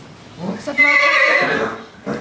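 A horse in a stable gives one loud, close, drawn-out whinny that rises and then trails off, with a brief snort-like sound just after it.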